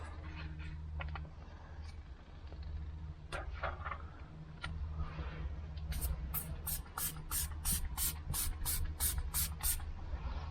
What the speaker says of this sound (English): So just spray the solution.